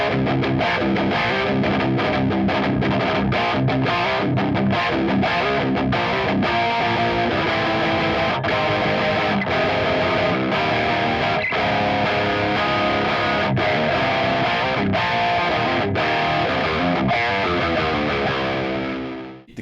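Electric guitar driven through a Valeton OD-10 overdrive pedal into a Kraken amp and Two Notes Torpedo Studio plays steady, gritty distorted riffs with sharp rhythmic chord stabs, loud and close throughout, then cuts off abruptly.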